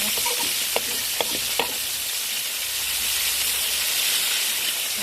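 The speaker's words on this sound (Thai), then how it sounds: "ทอดแบบนี้อร่อยมาก ๆ นะคะทุกคน กรอบแล้วก็ไม่ติดกระทะ" Fermented fish (pla som) fries in a pan with a loud, steady, hissing sizzle, broken by a few brief clicks and scrapes from a utensil near the start.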